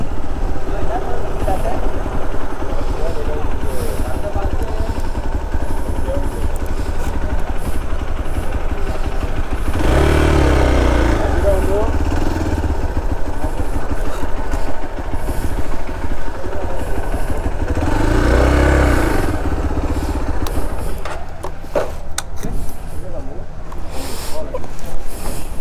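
Motorcycle engine rumbling steadily on a ferry crossing along the Dapoli–Guhagar coast, a continuous low drone with two louder surges, as people talk over it.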